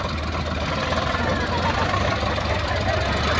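Two tractors stuck in a river run at once, a loud steady diesel rumble with knocking texture that fills the whole stretch, with speech mixed in under the engine noise.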